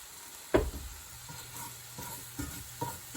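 Whole cumin seeds hit a hot pan for an eggplant shrimp coconut curry, giving a sharp sizzle burst followed by low frying crackle and a few light stirring knocks against the pan, close and fairly quiet.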